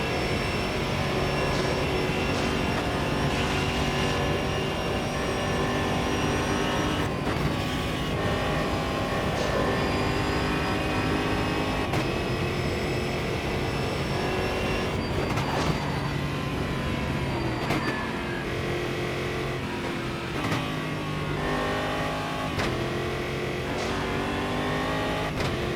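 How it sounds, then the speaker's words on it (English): Race car engine in the Automobilista 2 racing simulator, a sustained, loud engine whine with shifting pitch as the car accelerates and shifts gears, tone sounding somewhat muffled, with no talking. "the sound of the motor is unrealistically muffled"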